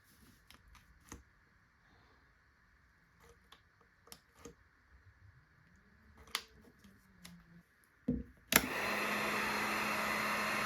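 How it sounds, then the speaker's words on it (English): Heat gun shrinking heat-shrink tubing on wires switches on near the end with a sudden steady blowing roar, after scattered small clicks and handling noises. "Use a heat gun to secure the shrink tubing in place."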